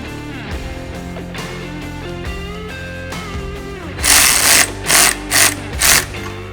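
A nut is tightened onto a glass windshield mount on a Kawasaki Teryx KRX 1000, a close mechanical whir building into a run of loud ratcheting bursts near the end.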